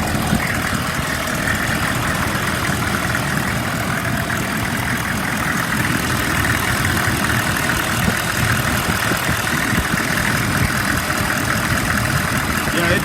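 A 2002 Chevy 3500 utility truck engine idles with a steady, loud, continuous low rumble that holds evenly throughout, with no speech over it.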